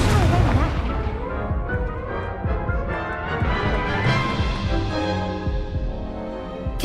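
Confringo and Incendio spell blasts in the video game Hogwarts Legacy go off as booming, crashing impacts in quick succession, loud and up close, with game sounds in between.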